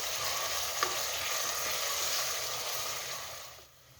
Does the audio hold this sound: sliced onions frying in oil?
yes